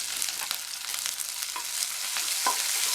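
Sliced onions, green chili and curry leaves sauté in a hot pan, giving a constant close sizzle broken by brief scrapes of stirring.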